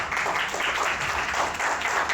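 An audience at a medical congress in Jhansi applauds the doctors, with steady, dense applause that fills the hall and carries on without a break.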